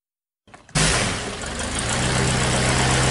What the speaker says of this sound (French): le pilote a mis le moteur en marche